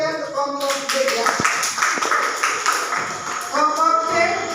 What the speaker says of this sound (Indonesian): beri tepuk tangan yang meriah untuk kelompok D